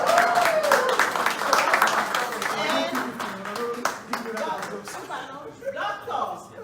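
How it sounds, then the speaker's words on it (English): An audience at a townhall fundraiser in Oakland and San Francisco breaks into a round of scattered clapping that fades after a few seconds, with people talking and chuckling over it. "I want us to give a round of applause to Mr."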